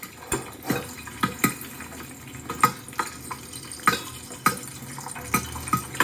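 Popcorn popping in a pot, sharp irregular pops scattered over a soft sizzling background, close and moderately loud, with no speech.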